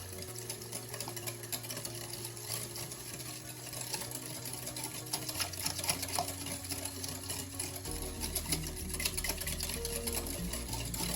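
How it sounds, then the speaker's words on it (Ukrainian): Eggs, sugar and sour cream are mixed by hand into cupcake batter, a soft steady scraping and sloshing that runs continuously at low level, with a faint background hum and no speech. "Для початку ми змішуємо яйця, цукор та сметану в однорідну масу."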